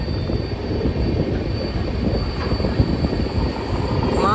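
Gour Express passenger train, number 13154, rolling along the rails with a steady, loud rumble of wheels and carriages, a brief squeal near the end, no voices.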